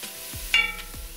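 Red, orange, green and jalapeno peppers sizzling in a pan, a short burst of hissing frying with a couple of low stirring knocks, close and steady, no voices.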